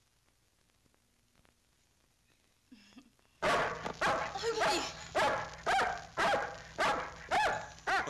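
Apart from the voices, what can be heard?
dog barking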